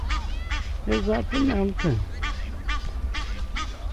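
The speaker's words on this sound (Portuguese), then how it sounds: "E muitas aves aquáticas lá ao fundo." Water birds at the lake in Porto's city park, mostly geese or ducks, giving repeated loud honking calls close by over steady outdoor background noise, with a voice speaking briefly.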